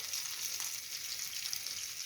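Zucchini slices in a cheese-and-egg batter fry in a pan with a steady, soft crackling sizzle, no voices.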